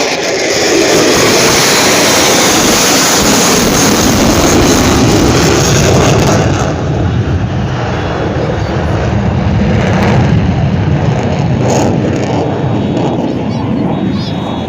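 A loud, continuous roar of a jet aircraft passing at the 2021 Salinas, California airshow, broad and rushing, holding steady for the whole stretch with a slight shift midway.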